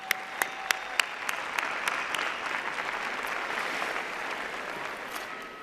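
A graduation ceremony audience bursts into applause, a few sharp individual claps at first building into a broad, sustained wave of clapping that gradually eases.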